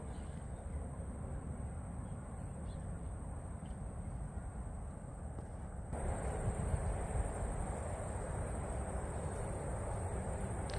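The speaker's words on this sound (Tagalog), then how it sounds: "Naririnig nyo guys yung tunog ng hangin." Steady, roaring wind rushes without pause by a river and grows louder partway through, with a faint insect-like buzz high above it.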